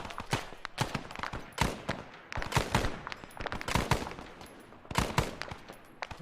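Gunfire rattles in the ArmA video game in a Vietnam-style firefight on a hillside, with sharp shots and short automatic bursts coming in irregular clusters at varying distances.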